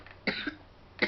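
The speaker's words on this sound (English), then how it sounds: "Hold on, I'm about to start coughing" Two sharp, close coughs, the first a quick double hack, then a short pause before another harsh cough, no talking.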